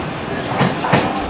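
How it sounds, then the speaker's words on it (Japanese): Interior ride on a 283 series Kuroshio limited express train, a steady rumbling roar of the running carriage with a couple of brief rising swells, continuous throughout. "283系の黒潮5号、もうちょっと乗っていたかったです。"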